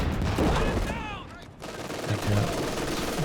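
Weapons fire in a Company of Heroes 2 match, a short burst of rapid gunfire and machine-gun rattle at moderate loudness, mixed with battle ambience and a voice in the background.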